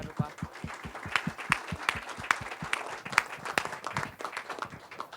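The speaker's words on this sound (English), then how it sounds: "Really, please give them a hand. Round of applause." An audience gives a round of applause to the panelists at an Everfi Super Bowl event, with distinct claps fairly quiet and steady, and a voice heard faintly beneath.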